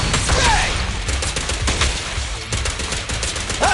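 Rapid bursts of gunfire from the video game Zenless Zone Zero rattle loud and close throughout, with dense repeated shots and a couple of short synthetic whooshes in the mix.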